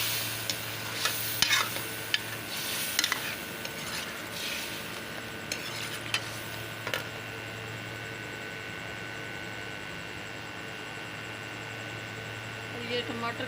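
Onion paste with garlic and ginger sizzles gently in a pot for an aloo chicken curry, with scraping stirs and clatter early on, then a quieter, even hiss.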